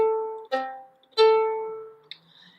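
Instrument tones played one after another as a major sixth interval, clear sustained notes with bright attacks that ring and decay, a higher note entering over the lower, with a faint click at the end.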